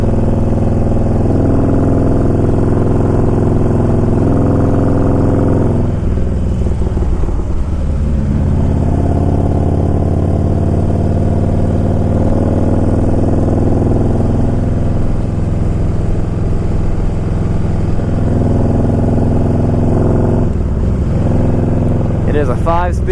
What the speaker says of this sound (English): You can easily catch yourself just going way over the speed limit on this bike.